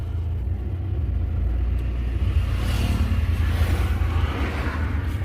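A car engine rumbles low and steady as the clutch is eased out in first gear after the handbrake is released, pulling away gently with a slight rise in revs.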